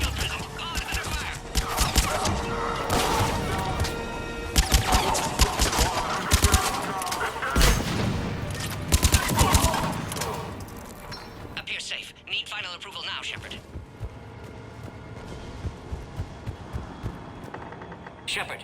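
Heavy firefight in Mass Effect: Legendary Edition, with dense bursts of rapid gunfire and sharp shots crowding together, loud and close, thinning into scattered reports later while voices talk over the action.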